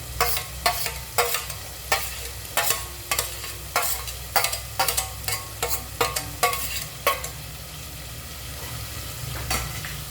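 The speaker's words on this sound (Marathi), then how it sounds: "आता तेल सुटेपर्यंत हे सर्व व्यवस्थित परतायचे" Masala with roasted ground coconut sautéing in a pan, with repeated sharp scraping strokes of a spoon over a steady low sizzle, close and fairly loud, no talking.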